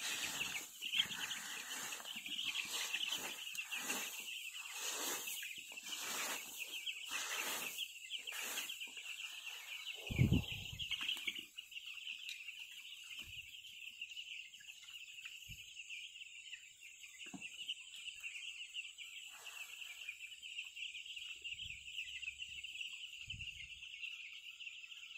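Nine-day-old Malindo broiler chicks chirp continuously in a heated brooder, a dense high-pitched chorus at low volume with scattered knocks and a louder thump near the middle.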